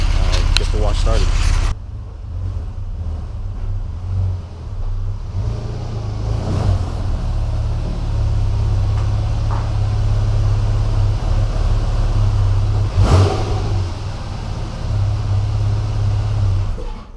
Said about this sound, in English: So I'm going to pull into the garage